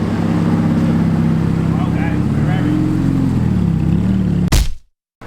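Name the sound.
Lamborghini Aventador SV engine while parking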